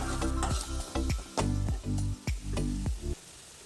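Paneer spices, including turmeric, chilli powder, garam masala, coriander powder and chicken masala, are sautéed in a pan, with a steady sizzle and about eight rhythmic scraping stirs, close and moderately loud.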